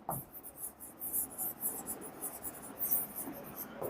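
Pen scratching on paper while a chemistry numerical is written out, a close series of quick irregular strokes and scribbles with a faint voice in the background.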